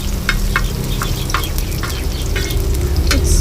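Boiled potatoes stir-frying in a pan give a steady close sizzle, with repeated scraping clicks from stirring at an uneven rhythm and no voices.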